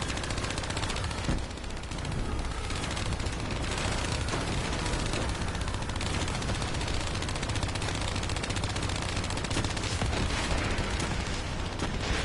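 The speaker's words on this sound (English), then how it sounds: "Now we're using turrets that can't turn worth a damn." Gun turrets in Black Ops 3 Zombies blaze away in dense, continuous rapid fire, a loud unbroken roar of shots and booms that fills the whole stretch.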